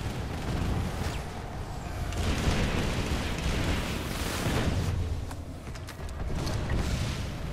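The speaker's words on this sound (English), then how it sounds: "Gotta put rockets on its position." Rockets slam into a Prowler tank during a Planetside 2 battle, producing a steady wall of rumbling explosions and booming blasts. The heavy, continuous barrage swells and dips over several seconds with no voices.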